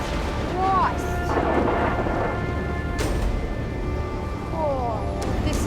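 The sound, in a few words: thunderstorm with heavy rain and wind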